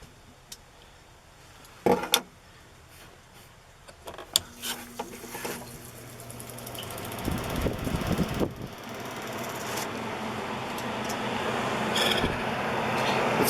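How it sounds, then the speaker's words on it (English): A replacement air conditioner runs on an Aliner A-frame popup camper, giving a steady mechanical fan whir that builds gradually louder, with a few brief knocks and clicks early on and no talking. "It's fairly hard to test an air conditioner when it's 50 degrees out"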